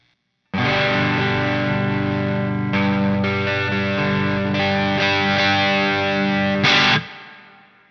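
Electric guitar run through a violet effects pedal in a custom pedalboard loop, loud and sustained with distorted, chorused tone; several strummed chords ring out over about six seconds before a final accent and fade.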